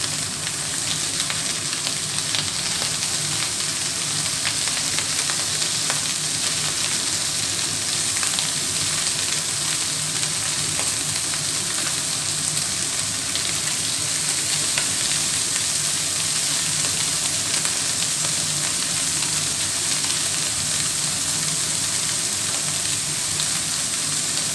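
Venison backstrap sears over very high heat in a hot pan with garlic oil, a loud, dense, continuous sizzle and crackle that holds steady throughout with no voices.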